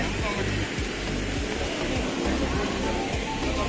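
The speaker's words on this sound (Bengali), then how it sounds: "খুব ভালো লাগছে, ঝর্ণাটা দেখো কত সুন্দর।" A waterfall gives off a steady, dense roar of rushing water, loud and close, with no break across the whole stretch and a possible faint murmur of voices underneath.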